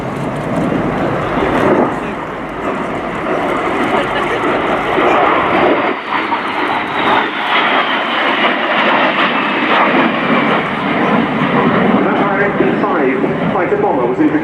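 A de Havilland Vampire jet fighter-bomber displays at the RIAT 2018 airshow, its engine roaring steadily from a distance for the whole stretch, with a commentator talking over it throughout.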